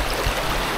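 Fast river current rushing steadily past, a dense broadband wash of water with a brief splash, heard close and continuous.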